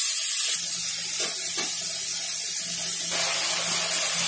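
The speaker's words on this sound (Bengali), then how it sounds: "মশলাটা কষিয়ে নেব।" A spice paste of ginger, cumin, chili, turmeric and salt fries in a wok for a village-style magur fish curry. After a short quiet start it becomes a steady, even sizzling hiss with no talking.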